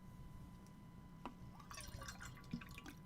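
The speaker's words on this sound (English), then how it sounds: "Let me have my drink of water." Water poured into a glass for drinking: faint, soft trickling and dripping with a few small clinks and gulps, quiet against a low background hum.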